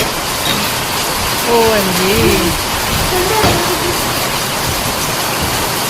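Heavy rain pours down in a dense, constant roar of loud hiss, while someone talks briefly over it.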